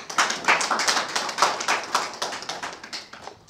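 A handful of people clap in an uneven, loose rhythm at a gathering of the Edo diaspora community, individual claps standing out close by, with no talk over them.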